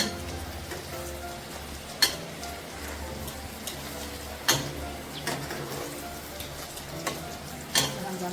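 Pansit canton noodles sizzle steadily in a hot pan while being stirred, with a few sharp clinks of the utensil against the pan, close and continuous.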